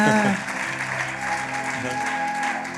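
A church congregation claps and cheers in praise of the Lord during a sermon, a dense, even roar of applause after a brief sustained tone at the start, with no clear speech on top.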